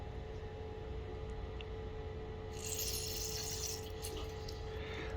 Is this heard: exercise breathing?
no